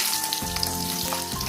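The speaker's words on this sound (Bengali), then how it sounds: "তো মাছ ভাজা তেলে আলু দিয়ে দিলাম," Potatoes frying in leftover fish-frying oil in a wok, a loud, close, continuous sizzle with brief stirring noises.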